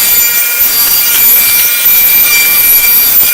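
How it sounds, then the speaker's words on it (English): A table saw cuts through wood to square the edge to the blade and miter slot, a loud, continuous whining roar of blade through timber from start to finish, close by and with no voices. "I'm going to go ahead and cut this to square this up with the blade and the miter slot"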